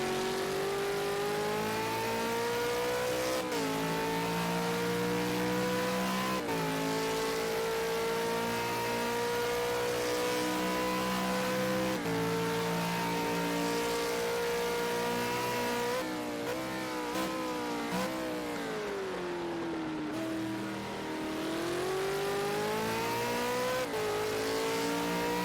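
V8 Supercar engines at Road America during qualifying in Project Cars 2 drone loudly and continuously, their pitch climbing and dropping with gear changes and braking over a long, unbroken stretch without speech.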